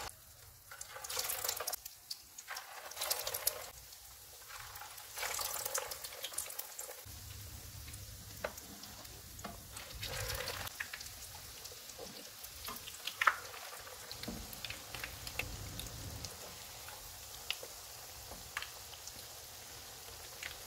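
Chicken resha kababs frying in hot oil over a low-to-medium flame, a faint steady bubbling sizzle with occasional soft clinks and shifts, continuing quietly throughout.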